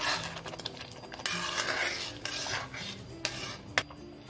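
A spoon scrapes and clinks against a pan while sugar is stirred into milk cake mixture for barfi, quiet rubbing strokes with a few sharp metallic taps, close by.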